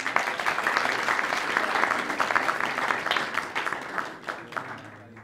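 An audience applauds steadily for several seconds at a literary evening event, dense clapping that thins out toward the end, with voices mixed in.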